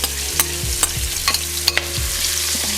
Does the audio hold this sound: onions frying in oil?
yes